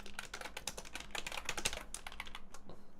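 Rapid typing on a computer keyboard that is in poor condition, with dense, irregular key clicks close to the mic, carrying on steadily for about three seconds with no talking.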